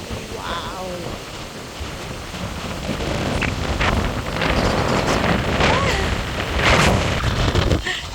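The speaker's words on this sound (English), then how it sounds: "It's too windy." Strong typhoon wind buffets the microphone at a house under construction. It roars and gusts continuously, loud and close, while people talk and exclaim faintly underneath.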